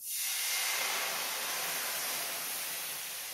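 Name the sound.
deglazing a hot pan with white wine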